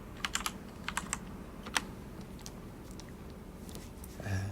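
Typing on a computer keyboard, heard close as short bursts of clicking keys in the opening couple of seconds, then sparser taps over a low steady background hum.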